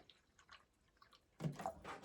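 Water splashed from a plastic bottle into a container at an overnight camp, with faint drips at first, then a louder burst of pouring and splashing for the last half second.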